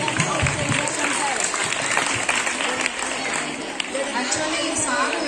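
Audience applause welcoming a guest at a retirement ceremony for a long-serving maths teacher: steady, dense clapping from a sizeable crowd, continuous throughout, with voices murmuring underneath.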